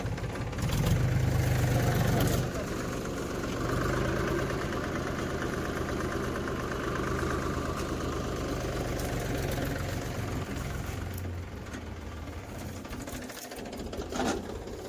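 A tractor engine idles in a farm field, giving a steady, close, rattling drone that holds almost unchanged through the whole stretch with no talking.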